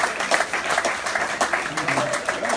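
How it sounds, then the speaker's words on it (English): An audience claps at a shirt presentation evening, with a dense, steady patter of applause from a room full of people and faint voices mixed in beneath it. "You give them a big clap"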